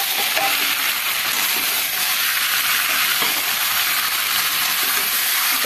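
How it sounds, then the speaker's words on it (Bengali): Chicken frying in a very hot kadai for Kolkata-style biryani, with fried potatoes added, gives a loud, steady, dense sizzle and hiss throughout, with faint stirring scrapes underneath and no talking. "এবার আমি নেড়ে নেব"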